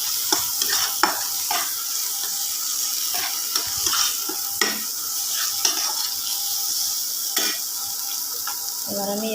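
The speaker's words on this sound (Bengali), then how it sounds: "হলুদ দিয়ে ভালোভাবে নেড়ে চেড়ে নেব।" Tomatoes fried with turmeric are stirred in a wok for a sour fish roe dish: a steady close sizzle runs throughout, broken by repeated scraping spatula strokes, with no voices.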